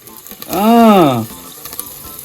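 Galangal sizzles in caramel in a pot while caramelized chicken is being cooked, giving a broad, close frying hiss; a loud voice calls out over it in the middle, and the hiss carries on more quietly afterward.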